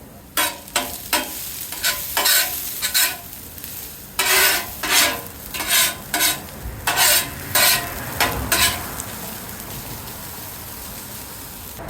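Onions frying in a pan for game-day burgers give off a loud sizzle, broken by a run of sharp, irregular scraping bursts as a spatula stirs and turns them.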